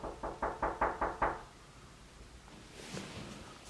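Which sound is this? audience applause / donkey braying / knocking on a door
knocking on a door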